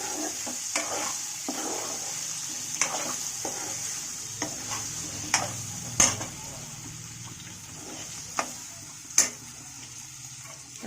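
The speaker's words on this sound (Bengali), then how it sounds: "এবার এটা একটুখানি এইভাবে নাড়িয়ে দেবো।" A spatula stirring food in a pan with scraping and a few sharp metallic clacks against the pan over a soft sizzle, close and moderate in level.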